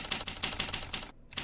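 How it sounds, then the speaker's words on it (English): Typewriter keys clack in a quick, steady run of sharp strikes with a brief pause near the end, heard alone and close in the Backrooms video game. "I love the typewriter sound effects"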